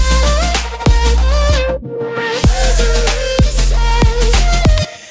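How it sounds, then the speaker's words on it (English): A future bass track plays with pitched vocal chops over heavy bass, the chopped vocal stabs hitting in a rhythmic pattern with a brief dropout near the middle before the full mix returns. "You guys heard the vocal chop from before. It sounds like this."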